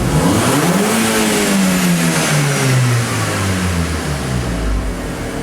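A car engine revs up from idle, the pitch climbing then gradually falling back as the throttle eases, loud and close with no voices.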